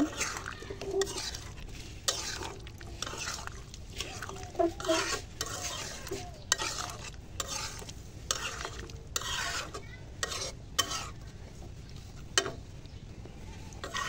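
Chicken, potatoes and whole garlic cloves fry in a pot while being stirred, making a continuous low sizzle broken by repeated scraping strokes and occasional clinks of the spoon against the metal.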